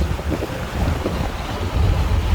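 A 1972 VW Bus, described just after a transaxle fluid change, rumbles loudly from inside the cabin as it drives and downshifts, the low engine and road roar heavily buffeted by wind noise on the microphone, without talk.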